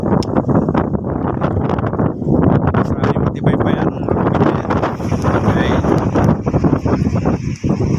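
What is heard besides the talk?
strong wind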